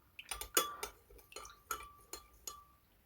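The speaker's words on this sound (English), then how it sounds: "Now I'll be giving it a quick stir." A spoon stirs a milk drink in a cup, sounding as sharp, bright clinks against the sides in a quick irregular rhythm of about a dozen taps, close and fairly quiet with no speech.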